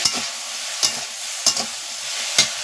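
Vegetables with turmeric stirred in a pan for a bottle gourd greens dish, a steady broad sizzle under four distinct scraping strokes of the spoon, close and moderately loud, no voices.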